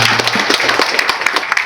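Audience applause for the attending officials at a finance seminar hall, a dense burst of many hands clapping close and steady, with a few stronger claps standing out and no voice over it.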